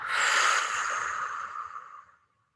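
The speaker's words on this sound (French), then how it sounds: "une profonde expire" One deep, drawn-out exhale during a vinyasa yoga breathing practice, close and clear, trailing away into silence with no talking.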